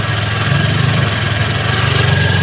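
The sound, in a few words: Honda Click v3 scooter engine idling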